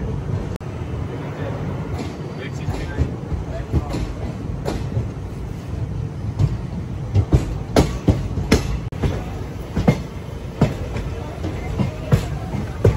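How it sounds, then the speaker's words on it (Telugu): An express train running from New Delhi to Puducherry passes close by with a continuous rumbling roar and irregular sharp clanks of wheels over rail joints, while voices talk faintly underneath. "న్యూఢిల్లీ నుంచి పాండిచ్చేరి వెళ్ళే ఎక్స్ప్రెస్ అది"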